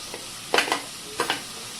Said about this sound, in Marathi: आता एक एक करून आपण त्याच्यात भाज्या टाकून घेऊया